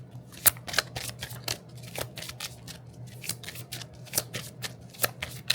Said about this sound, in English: That's why I've been shuffling so much.